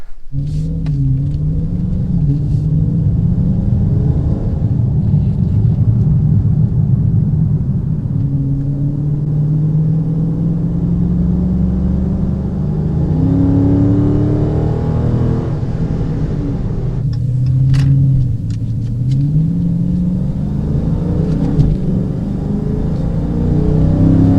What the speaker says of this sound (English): let's go ahead and take her for a ride because it's been a little while